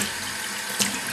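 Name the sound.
running water for cleaning football boots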